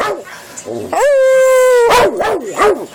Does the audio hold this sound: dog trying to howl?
yes